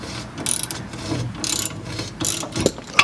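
Ratchet wrench clicking as it turns a socket on a Lexus IS300 drift build car, several short bursts of pawl clicks close by with brief pauses between them.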